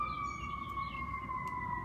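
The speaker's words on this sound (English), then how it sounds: "Yeah, the siren's going off." Emergency siren wailing somewhere near downtown, a steady tone sliding slowly downward, heard at a moderate distance from indoors with no talk over it.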